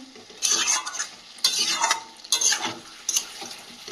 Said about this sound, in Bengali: মাংসটা বেশ ভালোভাবে কষিয়ে নিয়েছি, তেলটাও ছেড়ে দিয়েছি